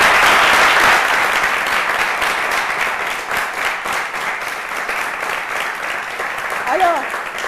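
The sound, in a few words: young studio audience applauding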